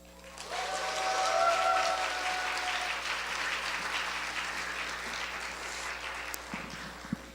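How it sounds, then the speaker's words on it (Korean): A church congregation at a Sunday afternoon service claps for the pastor, a sustained round of applause in a hall that swells early, holds steady and tapers, with a brief voice or two near the end. "목사님, 힘찬 박수와 기쁜 마음으로 우리 한호성으로 맞이하도록 하겠습니다"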